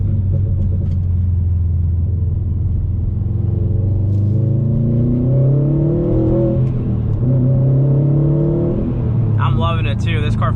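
A 2020 Subaru STI's engine pulls hard under boost, its low rumble rising steadily in pitch as it accelerates from inside the car, loud and continuous, with a brief chirpy sound near the end.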